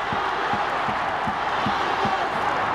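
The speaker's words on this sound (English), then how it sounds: "The crowd trying to get the team over the line." A stadium crowd roars steadily through a rugby league grand final between the PNG Hunters and Sunshine Coast Falcons, with a broad continuous wash of cheering and a commentator talking over it, plus faint rhythmic thumps underneath.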